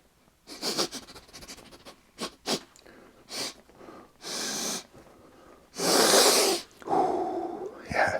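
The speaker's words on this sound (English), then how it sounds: "I think we got to come in for a sniff test" Several sharp sniffs and snorts near the microphone, loud bursts of breath inspecting a freshly opened box of Legions Imperialis Legiones Astartes Support epic-scale miniatures, with short gaps between them.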